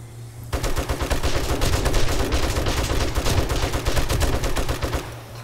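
Rapid automatic gunfire from a zombie horde video game, loud and sustained in dense, overlapping bursts for about four and a half seconds, with no talking.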